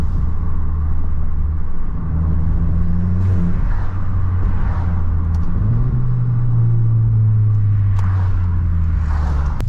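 A straight-piped Volkswagen GTI exhaust, loud and close, holds a deep steady drone, then climbs through a rising rev around the middle and settles into a strong sustained roar, with no pops.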